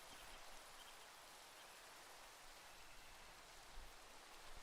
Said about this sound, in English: It starts to rain too.